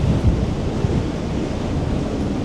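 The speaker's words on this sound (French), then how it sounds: "il y a énormément de vent" Strong wind roars and buffets steadily aboard a GNV ferry crossing from Tangier to Sète, with a deep rumbling rush like gusts and surf at sea, loud and continuous.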